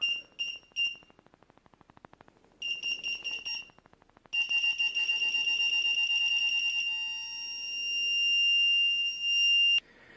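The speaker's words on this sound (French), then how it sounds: "il fait un bip continu pour nous indiquer qu'on est proche" A reversing parking sensor kit's electronic beeping starts as quick intermittent pips, then speeds up and merges into one steady, continuous high-pitched tone that cuts off abruptly.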